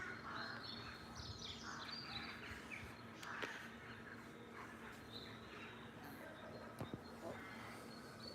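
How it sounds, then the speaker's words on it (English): Crows calling from trees outdoors, the caws distant and faint among other bird chirps over a steady low background hum, with no one speaking. "Crows are going crazy in the trees."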